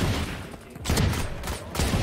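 Rapid gunfire in a video game, bursts of loud cracking shots in quick succession filling the short stretch, close and dense, with no clear speech.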